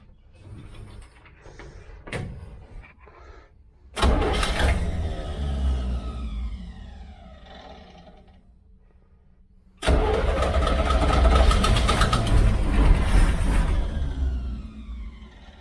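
A 1969 Chevy van, long off the road, cranks with a few short clicks, then the engine catches loudly around four seconds, runs rough and fades, and fires again near ten seconds into a loud, steady close-up running roar.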